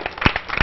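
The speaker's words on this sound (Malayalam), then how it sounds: "കയ്യടി കൊടുക്കുക." Brief scattered clapping from a small gathered group applauding Immanuel, a few quick claps close by over less than a second, with no talk.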